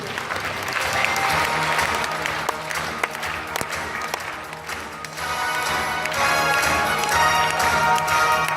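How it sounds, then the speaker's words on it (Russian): Audience applause at a children's puppet theatre competition awards ceremony, a dense, sustained wash of many hands clapping, loud and continuous, swelling slightly toward the end. "Аплодисменты."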